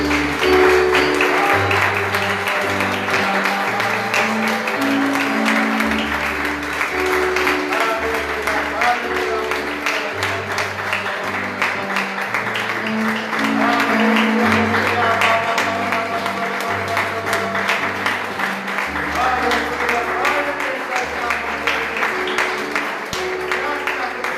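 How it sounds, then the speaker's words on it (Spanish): A church congregation claps steadily along with loud, rhythmic music with a heavy bass line, and voices carry over the top. "Un fuerte aplauso a Cristo."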